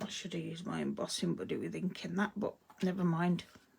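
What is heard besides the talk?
No everyday noise stands out behind the speech.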